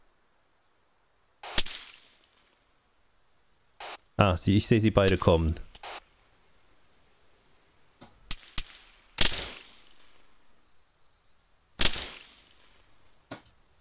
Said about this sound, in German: Scheiße, ich stehe hier gerade unter Beschuss.